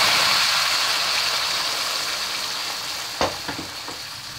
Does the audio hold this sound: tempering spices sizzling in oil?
yes